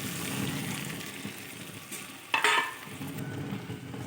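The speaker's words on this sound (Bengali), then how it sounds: "এবার আমি এতে দিয়ে দিচ্ছি পেস্ট করে রাখা গ্রেভিটা।" Pasted gravy goes into a pan of fried, stuffed teasel gourd. A continuous close sizzle and stirring flare into a sharp, louder hiss as the paste hits the hot oil, then settle back.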